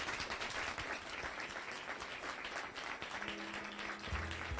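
A crowd at a Caribbean Christmas singing contest applauds the performing artists, a steady dense wash of clapping that continues throughout, with a low musical tone entering near the end.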